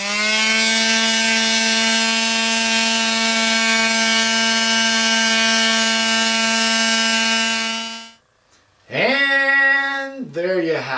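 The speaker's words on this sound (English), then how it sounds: "I'm going to cross cut it over at the table saw" A table saw cross-cutting a walnut block: a loud, steady motor whine holds for about eight seconds, cuts off, then the blade spins up again with a rising and falling pitch before tapering away. No one speaks.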